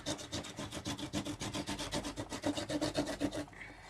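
A bone folder burnishes a book page, giving rapid rhythmic rubbing strokes of paper scraping back and forth, close and fairly soft, that stop near the end.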